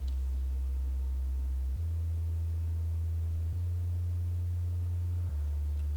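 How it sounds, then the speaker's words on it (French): An 808 works as sub bass in a reggae beat, holding deep sustained low notes that change pitch every couple of seconds and follow the root notes under a quiet, soft backing. "C'est une 808, mais j'utilise comme sub bass un peu."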